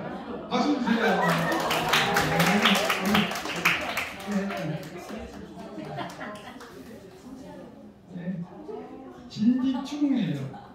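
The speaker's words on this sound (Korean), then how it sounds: "박수 주세요." An audience at a teachers' training session claps in a brisk burst of rapid applause near the start that fades out, followed by talking and some chuckling.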